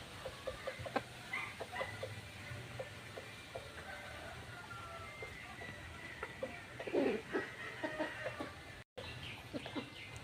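Scattered clucks from chickens at a moderate distance in a backyard, intermittent over a steady outdoor background hum.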